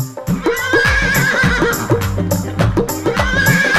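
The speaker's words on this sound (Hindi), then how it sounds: "एक बार नीले घोड़े की आवाज आए आपकी तालियों के साथ" A horse whinnies loudly several times in shrill, wavering cries, with faint hoof clatter underneath.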